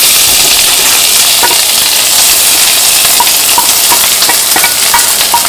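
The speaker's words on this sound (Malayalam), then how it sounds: "ഇതിലേക്ക് സവോളയും പച്ചമുളകും കറിവേപ്പിലയും ഇഞ്ചിയും ചേർക്കാം." Onion, green chili, curry leaves and ginger frying in hot oil, making a loud, dense, continuous crackling sizzle with faint stirring taps throughout and no voices.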